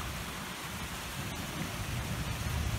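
Steady rain falls in Red Rock Canyon on a hiking trail, with water running nearby, a dense continuous hiss that holds even and fairly close throughout, with no voices.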